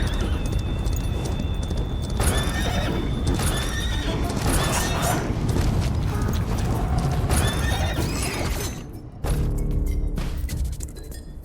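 Horse in a video game: loud neighing and whinnying over steady clip-clop hoofbeats and mechanical rattling, continuous for the whole stretch with a brief drop near the end, no talking.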